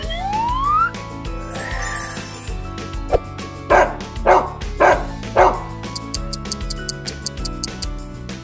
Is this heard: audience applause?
no